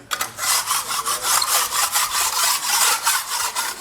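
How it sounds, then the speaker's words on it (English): A hand scraper strips old thinset glue off a garage floor in rapid, rhythmic rasping strokes, loud, close and continuous. "I'm just kind of going around and scraping all the areas of the floor to make sure that it's ready for the tiles"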